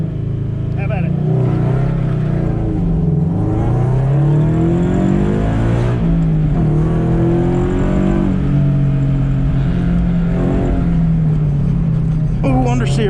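A Scion FR-S on worn, aging tires runs hard around an autocross course, its engine loud and close, pitch climbing and dropping through repeated revs and shifts with no break.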